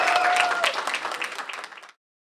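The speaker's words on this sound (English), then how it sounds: "A round of applause for Mark Appel" An audience at a reception gives a round of applause for Mark Appel: dense clapping starts loud, then thins and fades out to silence within about two seconds.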